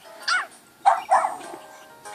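A virtual puppy in the Nintendogs game gives two or three short, bright yips and barks, close and clear, separated by brief quiet gaps.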